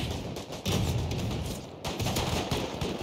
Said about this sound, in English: The recoil on the python is insane, dude.